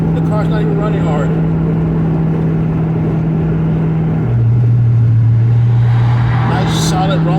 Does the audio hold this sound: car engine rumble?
yes